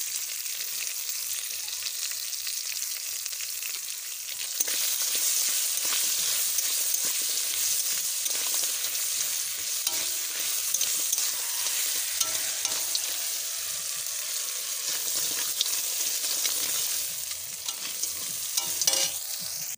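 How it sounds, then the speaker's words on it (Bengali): Oil sizzles and crackles steadily in a pan as crab fries with turmeric and salt, with occasional scraping and stirring sounds, fairly quiet and continuous, no talking. "আমার কাঁকড়া ভাজা হয়ে গেছে, তুলে নিয়েছি।"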